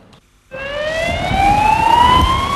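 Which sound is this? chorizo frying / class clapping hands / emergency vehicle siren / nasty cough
emergency vehicle siren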